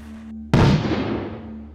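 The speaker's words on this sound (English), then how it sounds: "This time, a powerful explosion." A single sharp, powerful blast erupts suddenly, loud and close, then rolls off into a long decaying rumble over a low steady hum, standing alone without voices.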